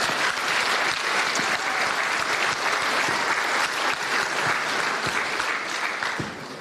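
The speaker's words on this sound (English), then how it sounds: "So let's give them a clap." Audience at a 10-year anniversary celebration for Maie Sitete Siva claps in a steady, dense wash of applause, fairly loud throughout and tapering slightly at the end.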